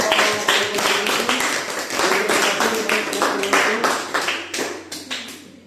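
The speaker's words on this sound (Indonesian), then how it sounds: "Tepuk tangan untuk kelompok." Students in a junior high school classroom clap for a group, a lively burst of hands clapping in quick rhythmic patterns, close and fairly loud, fading out at the end.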